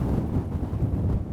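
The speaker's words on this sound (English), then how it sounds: "Getting really windy out here" Strong outdoor wind buffeting the microphone, a low continuous rumble with gusty fluctuations and no other clear sounds.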